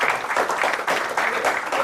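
An audience claps, a dense, steady patter of many hands close by, filling the short moment without talk.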